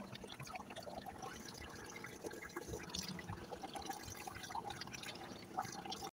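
Kipahit leaves soak in water for nitrogen-rich compost tea. A continuous watery trickle and dribble sound with faint drips runs steady throughout, with no speech.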